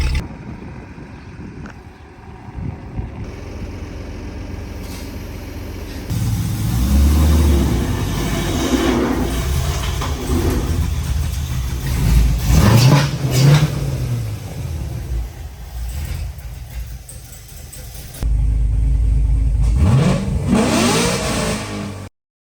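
A C5 Corvette fitted with a C7 transmission and differential rumbles and revs as it pulls away and moves, with engine and drivetrain noise rising and falling over about twenty seconds and a louder surge near the end.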